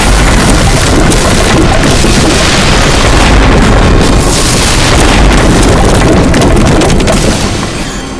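A bomb goes off in a CID television crime drama scene, a very loud, sustained roaring blast with heavy rumbling debris that fills several seconds before easing off at the end.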